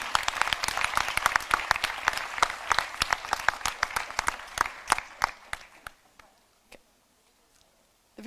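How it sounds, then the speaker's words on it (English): An audience at a leadership summit session applauds, dense clapping that gradually thins into a few scattered isolated claps before fading to near silence. "give an extra, incredibly strong round of applause for these wonderful girls and women"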